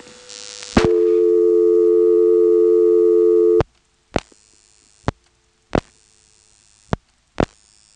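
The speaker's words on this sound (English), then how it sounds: "Now, we've just dialed 453," A step-by-step telephone exchange with directors gives a steady dial tone that cuts off when dialing 453 begins, followed by sharp, isolated clicks spaced about a second apart in a quiet room.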